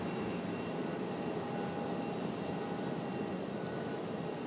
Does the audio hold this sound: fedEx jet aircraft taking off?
yes